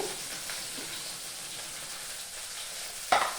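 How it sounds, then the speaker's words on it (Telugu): Tomato pieces, green chilies and curry leaves fry in a pan with onions, making a constant close sizzle and hiss, with a brief stirring scrape near the end. "వేసేస్తున్నాను టమాటా ముక్కలు పచ్చిమిర్చి కరివేపాకు"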